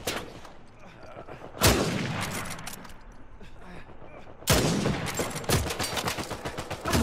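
Gunfire in the video game Uncharted 4, heard as two loud sharp shots several seconds apart followed by a quicker run of shots under a low background rumble, with a voice talking in between.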